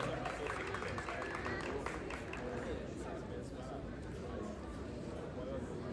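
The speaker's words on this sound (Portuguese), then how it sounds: "Salva de palmas para ela." Steady dense applause from an audience at an expo round-table event, continuous clapping and crowd murmur throughout at an even level.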